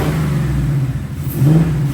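A 2024 Ford Mustang GT V8 fitted with Steeda air filters and its carbon traps removed rumbles at low idle and then swells briefly in a short rev, loud and close.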